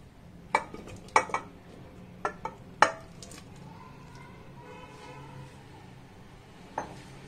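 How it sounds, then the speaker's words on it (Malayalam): Tomato pieces drop into a pressure cooker for homemade tomato ketchup, giving several short clinking knocks of vegetable on metal, some in quick pairs, over a quiet kitchen background with a last faint knock near the end. "ഈ കുക്കറിനകത്തേക്ക് നമുക്ക് ഈ തക്കാളി ഇട്ട് കൊടുക്കാം."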